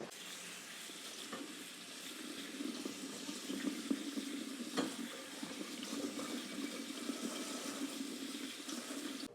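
Running tap water splashes steadily over produce being washed in a kitchen sink, a continuous soft hiss with small knocks and rustles throughout, nothing spoken.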